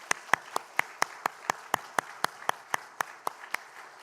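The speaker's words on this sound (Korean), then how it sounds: "네, 박수 한번." Slow, evenly spaced claps at a Korean church service, sharp distinct hits roughly every quarter second, like a small group or a single person clapping in time over a quiet room.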